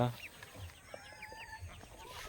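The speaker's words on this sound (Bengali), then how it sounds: "এই হলো আমার দেশি মুরগির ফার্ম" Native country hens cluck and chirp quietly at a small chicken farm, a few soft calls scattered across a low background murmur.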